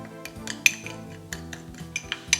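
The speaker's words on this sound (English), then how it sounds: "Just going to give this a quick mix." A spoon quickly stirs dry spices, smoked paprika and salt, in a bowl for a chicken marinade, giving a run of light metallic clinks and taps close by, with no talking.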